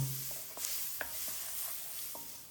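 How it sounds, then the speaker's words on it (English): Scallions, onion and minced garlic frying over a medium flame, with a soft steady sizzle and a few light stirring taps, fairly faint. "I'm going to stir that for about a minute over a medium flame"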